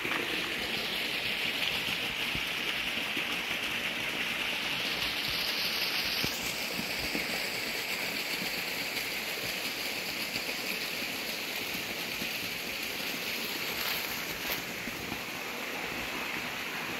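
Clear, pure water flows in a river near its source amid lush vegetation, a steady, close rushing wash that continues evenly throughout with no voices.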